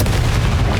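A Confringo blasting spell detonates in the Hogwarts Legacy video game during a fight with spiders, a short, loud, booming burst with a heavy low rumble and no voices.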